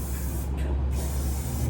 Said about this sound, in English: And then spray it.